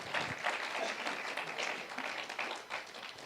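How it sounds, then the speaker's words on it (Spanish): A church congregation breaks into sustained applause, a dense wash of many hands clapping together that carries on at an even level for several seconds. "Dale un aplauso al Dios Todopoderoso"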